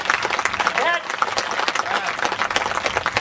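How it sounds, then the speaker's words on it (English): Audience members at a congressional district candidate's speech clap in a lively, uneven burst, with scattered distinct hand claps over a busy crowd backdrop and voices mixed in. "go ahead and applaud that Constitution"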